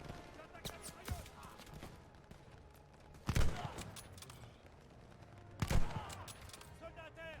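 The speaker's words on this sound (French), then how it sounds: "Neutralisez la mitrailleuse. J'attaque la mitrailleuse." Bursts of machine gun fire in the Call of Duty: Vanguard shooter, with two heavier, louder volleys standing out from a steady backdrop of distant battle noise and scattered shots.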